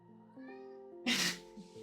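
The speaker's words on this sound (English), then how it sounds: "Oh, my cat just entered my studio." A cat meows up close in a drawn-out, wavering call, followed by a brief breathy hiss-like burst and a faint trailing mew.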